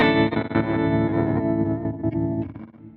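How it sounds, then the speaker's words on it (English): A Chroma Console pedal's interference effect is turned fully up on a sustained tone. It smears the tone into a buzzing, distorted, glitchy texture that stutters and warbles throughout, loud and close, with no voices. "I'm going to use the interference effect, and let's turn them out all the way up"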